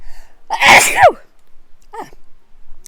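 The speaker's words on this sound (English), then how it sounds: "And I'm gonna sneeze." A single loud, close sneeze bursts out, followed moments later by a short, faint vocal sound, then quiet.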